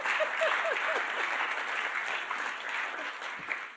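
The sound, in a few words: audience applause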